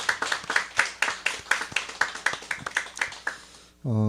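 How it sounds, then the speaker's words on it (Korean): A church congregation at an early-morning prayer service claps in a steady, even rhythm for a few seconds, then stops as a sustained tone begins. "우리 박수 한번 하시고 시작하겠습니다."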